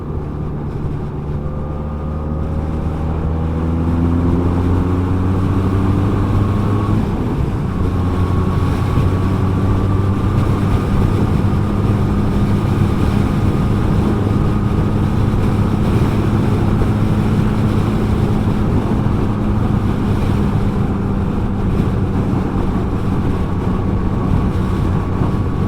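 A 2019 Benelli 502C motorcycle engine droning while riding, a steady loud hum rising through gears with pitch shifts, wrapped in heavy wind rush.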